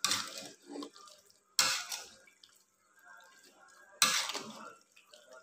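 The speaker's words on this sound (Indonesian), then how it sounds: "Kita kasih air" Water is poured into a cooking pan in three separate splashy bursts, each a close, bright gush that trails off into dribbles, with quiet gaps between them.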